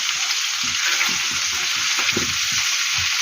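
Chopped tomato and meat sizzle in a pan under a bright, continuous fry hiss, while irregular scraping stirs run underneath, close up and with no talk.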